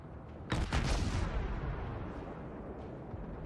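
Guns on the warship ARP Myoko fire in World of Warships: one heavy salvo with a doubled crack, then a long rolling rumble that fades slowly, loud and close, with no talk.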